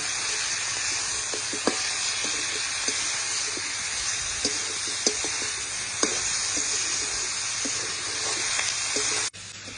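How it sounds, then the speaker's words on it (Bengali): Chicken fries in a pan with a loud, steady hissing sizzle that fills the whole stretch, with occasional light stirring taps, ending in a sudden cutoff. "চিকেনটা একটু ভাজা ভাজা করব"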